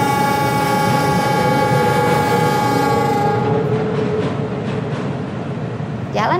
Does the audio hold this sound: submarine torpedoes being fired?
no